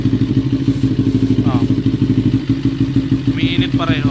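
Kawasaki-style NK400 motorcycle engine running steadily up close during a troubleshooting test, a loud rumbling drone with a rapid pulsing beat, and brief mechanical clicks near the end.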